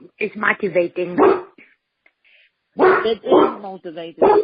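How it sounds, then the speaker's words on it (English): A dog barks intermittently in the background of a room while people hold a conversation over it. "if you guys hear a dog in the background, that's Maria's dog"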